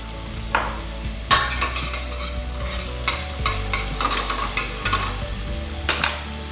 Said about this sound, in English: Then also I'm gonna add my tomatoes